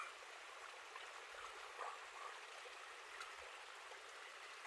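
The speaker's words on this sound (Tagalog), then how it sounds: "ganitong malakas ang ulan, ayan ang agos dito sa pababa" Strong rainwater current rushing downhill across a small mini farm during heavy rain, a steady broadband rush of flowing water, close and continuous, with no voices.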